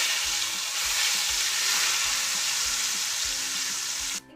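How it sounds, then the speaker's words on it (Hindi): A tadka of hot oil with Kashmiri red chilli poured into kadhi gives a steady, bright sizzle with soft stirring scrapes, continuing close and evenly for about four seconds before cutting off abruptly. "अब इस तड़के को हम अपनी कढ़ी में डाल देते हैं"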